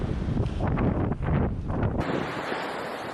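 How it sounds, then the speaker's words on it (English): A large ocean wave crashes on a beach at Yallingup in Western Australia, with a heavy roaring surge and rushing foam heard through strong wind buffeting the microphone, easing off after about two seconds. "And then a huge wall of water just comes."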